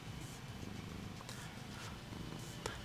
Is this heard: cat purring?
yes